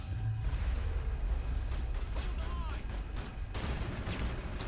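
Gunfire in the video game Mass Effect, a steady rattle of shots over a low rumbling battle din, moderately loud and continuous with a sharper burst near the end.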